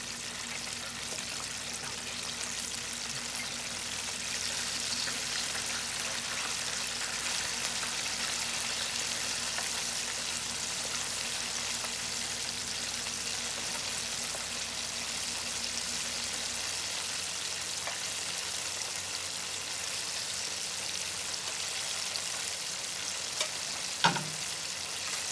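Chicken wings frying in a pan, a steady broadband sizzle that holds evenly throughout with no talk, ending in a single brief sharp knock near the end.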